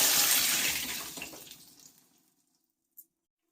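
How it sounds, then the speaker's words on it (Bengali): Water pours from a vessel onto mashed dried mango (amshi) while cooking a pangas fish ambal, a loud splashing rush that tapers off over two seconds, followed by one small clink. "দিয়ে দিচ্ছি পরিমাণ মতো জল"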